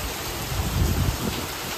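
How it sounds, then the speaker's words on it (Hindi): Heavy monsoon rain pours down outdoors, a dense, close hiss with no gaps, steady and loud through the whole moment. "फिर से बारिश स्टार्ट हो चुकी है।"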